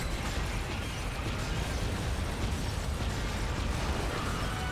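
Mortar explosions in the video game Soul Sacrifice Delta: a dense, unbroken roar of rapid bursts and mechanical rattling, loud and steady throughout with no voice over it.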